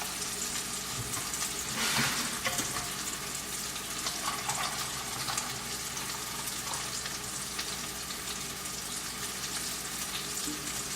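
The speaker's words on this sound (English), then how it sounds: "I'm going to measure out 4 cups of hot water." Hot water pours and trickles steadily into a measuring cup for several seconds with a soft hissing splash, close by, with faint clinks near the start.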